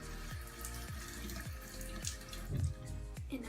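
Tap water runs into a sink to wet a cotton swab, a quiet, steady stream with faint rhythmic dripping ticks.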